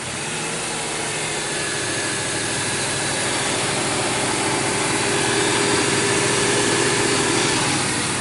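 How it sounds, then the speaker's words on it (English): 1967 Ford Mustang Fastback GTA with a numbers-matching engine idling steadily on a chilly day, a close, continuous rumble with hiss and vibration and no voices. "See, it idles down real nice."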